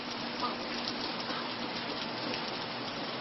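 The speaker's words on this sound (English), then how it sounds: "the rain is a welcome sight" Monsoon rain falls steadily in Arizona during a lightning storm, a dense, even hiss of drops hitting surfaces that holds constant and fairly close throughout, with no talk over it.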